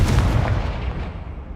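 The Confringo fire-blast spell in the video game Hogwarts Legacy, a loud, deep explosive boom that opens at full force and then rumbles away over a second and a half, with no voices.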